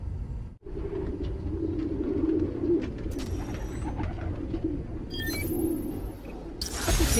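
Pigeons coo steadily in a city park setting from Spider-Man: Miles Morales, a soft layered murmur of several birds, with a brief dropout early and a few sharp clicks and bright noises near the end.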